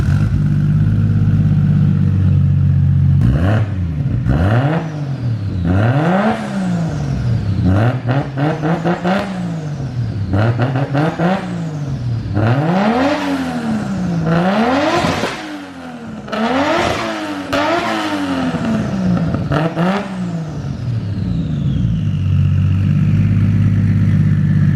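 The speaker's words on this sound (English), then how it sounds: "I'm going to give them a couple revs and see what you guys think" A Toyota 1JZ and a Nissan Skyline RB25 engine at a dyno day, revved again and again, each blip climbing to a high snarl and then falling back to a rough idle, loud and close, with no talking.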